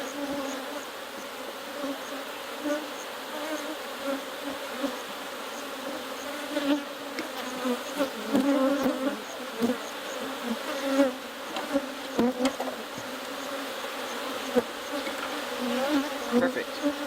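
Honey bees swarm around an open hive during requeening, a dense steady buzz with many close wingbeats passing and rising over the constant drone for the whole stretch, no talk.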